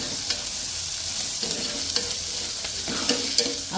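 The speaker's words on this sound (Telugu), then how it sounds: "వెల్లుల్లి పేస్ట్ ఇది పచ్చివాసం పోయే వరకు వేగించుకోవాలి" Garlic paste fries in a pan for a mutton head curry, a constant loud sizzle with soft scraping stirs now and then, close by and without any voice.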